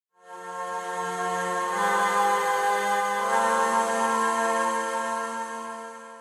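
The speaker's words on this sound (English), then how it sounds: "And then we have this choir sample again." Choir sample in FL Studio for a song remake, a smooth sustained vocal pad that swells in and holds one steady chord, fading slightly at the end.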